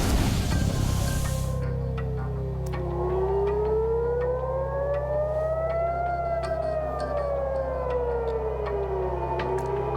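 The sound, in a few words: air raid sirens sounding in Tel Aviv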